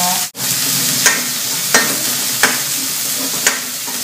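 Spring onions and red onions fry in a pan for chicken breast menudo, a steady loud sizzle broken by several sharp scrapes and taps of a stirring utensil at regular intervals.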